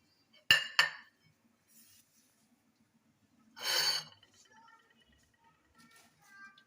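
A spoon clinks sharply twice against a glass, followed by a softer scraping stir as a ground paste is mixed into a glass of milk, with a few faint clinks afterward.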